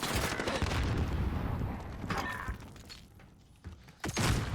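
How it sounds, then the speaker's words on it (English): A grenade explodes in Call of Duty, giving a loud, close, crackling blast with a burst of debris and gunfire-like clatter. The noise fades after a few seconds, and one more sharp impact comes near the end. "I was just throwing a nade there"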